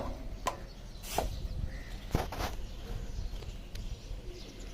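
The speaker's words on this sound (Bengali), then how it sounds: "কবুতরেরা আপনি যাই দিবেন তাই খাবে" Pigeons and doves coo at an early-morning outdoor feeding spot as they eat mixed bird feed, with a few short chirps and sharp calls from other birds over a steady low outdoor background.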